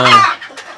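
A mother hen at a country chicken farm gives a loud, close cluck, then a few softer short clucks.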